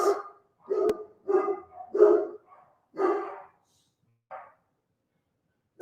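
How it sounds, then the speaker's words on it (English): Several dogs bark in a home, a string of short, separate woofs coming close together and then spacing out, fairly near and loud against an otherwise quiet room. "my dogs are barking all over the place"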